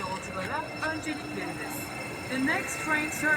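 Marmaray commuter train pulling into a station platform on the Cevizli–Kartal line, a steady mechanical rumble with high squealing tones and hiss, while people talk nearby.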